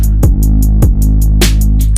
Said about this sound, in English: we have a gunshot that's just acting as an impact